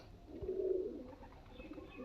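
A pigeon at a breeder's home gives a single soft, low coo, close and fairly quiet, with faint background noise and no speech.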